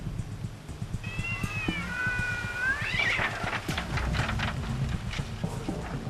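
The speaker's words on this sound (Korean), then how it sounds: "두 고양이 간에 영역 다툼이 벌어졌다." Two cats on a Korean island clash over territory near a rubbish heap, one giving a loud drawn-out yowling caterwaul with rising and falling wails, followed by scuffling and further growls at close range, with no talk.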